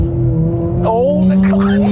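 A cheap, unreliable used car's engine hums at a steady pitch, then revs rise and fall as the driver shifts down from third into second; a voice talks over the engine throughout.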